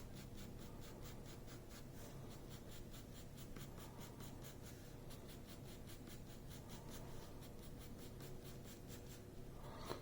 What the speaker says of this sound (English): Start off very lightly with the pencil.